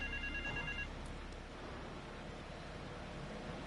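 A telephone in Grand Theft Auto 3 gives a short electronic ring in the first second, then stops, leaving a steady engine-like rumble and water wash from a vehicle underneath.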